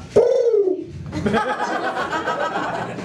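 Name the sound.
comedian imitating a pigeon cooing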